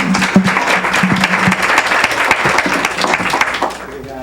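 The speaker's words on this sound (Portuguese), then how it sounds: "uma salva de palmas, por favor" Dense applause from an audience at a Rio de Janeiro cultural seminar fills the room, steady and loud for nearly four seconds before fading, with a voice briefly audible near the end.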